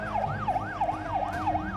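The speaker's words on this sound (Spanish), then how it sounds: "Allí va una de las ambulancias." A wailing ambulance siren sweeps up and down in steady, rapid cycles, fairly close and loud, in the aftermath of an embassy bombing.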